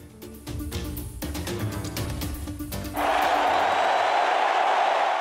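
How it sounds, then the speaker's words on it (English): A national championship football stadium crowd erupts into a loud, sustained roar that swells into a broad wash of cheering, preceded by busier crowd noise with voices. "The crowd roared as President Trump and First Lady Melania walked onto the field at the national championship game."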